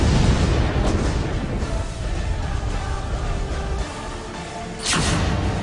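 A heavy, rumbling bomb blast in Beirut fills the clip with a broad roar that sustains and swells, followed by a second burst near the end.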